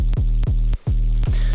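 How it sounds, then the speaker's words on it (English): A deep, buzzy sub-bass synth, a sine wave with white noise and distortion, pulses in a repeating rhythm of throbbing notes, loud and alone, with one brief gap. "which is literally just a sine wave with white noise with distortion"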